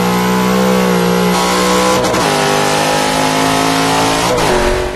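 Race car engine in Forza 5 roaring loud and close, held at high revs with a couple of quick dips and recoveries as the throttle shifts, no talk.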